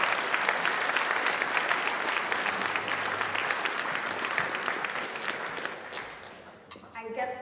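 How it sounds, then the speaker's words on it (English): An awards ceremony crowd applauds warmly, a thick wash of clapping that holds steady before fading out and thinning to a few scattered claps at the end. "a huge round of applause for everyone recognised and celebrated in the Disability Power 100"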